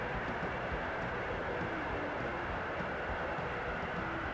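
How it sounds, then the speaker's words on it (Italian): A train from Bologna pulls in at the first platform of an Italian station, heard as a steady, fairly loud broadband rumble and rolling noise that holds evenly throughout with no voices. "È in arrivo sul primo binario, treno proveniente da Bologna"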